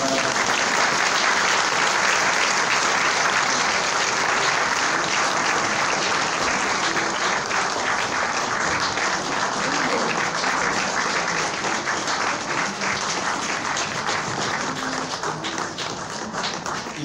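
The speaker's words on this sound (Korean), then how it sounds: "모두 박수 부탁드립니다." A church congregation claps steadily through a pastor's 40th-anniversary and emeritus installation service, dense and sustained applause filling the room at an even level for the whole span, with no clear talk over it.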